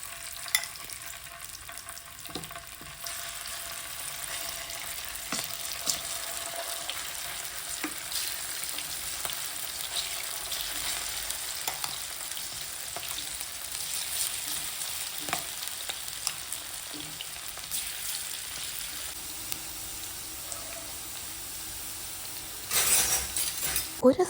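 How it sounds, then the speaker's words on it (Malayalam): Sliced ivy gourd fries in oil in a hot pan with a steady crackling sizzle throughout, and a few light clinks of utensils come toward the end. "ഒരു പാൻ ചൂടാക്കി അതിലേക്ക് ഇത് മുങ്ങിക്കിടക്കാവുന്ന വിധത്തിൽ എണ്ണ ഒഴിച്ച് അത് വറുത്തെടുക്കാം"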